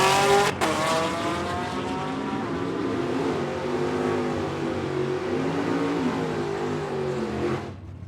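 Chevrolet Camaros drag racing at a live drag racing event, one a second-generation chrome-bumper car: a loud, sustained roar of racing engines close by, holding steady for several seconds before cutting off abruptly.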